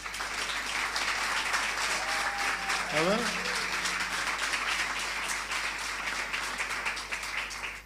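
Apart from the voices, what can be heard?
church congregation applauding the pastor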